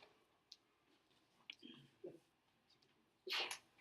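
A single sharp sneeze bursts out near the end, loud against a quiet classroom with a few faint clicks and rustles before it.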